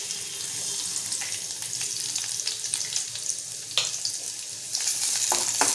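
Sliced onion sizzles in a little oil in a hot pan, a steady close hiss with occasional sharper crackles and stirring clicks, swelling louder near the end, with no talk.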